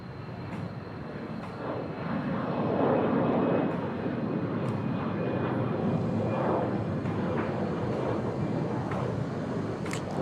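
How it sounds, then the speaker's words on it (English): A Lao Airlines Airbus A320 jet passes near Bangkok Suvarnabhumi Airport, a broad rushing engine roar that swells to a peak and then slowly fades, heard from outdoors. "Here comes Lao Airlines A320."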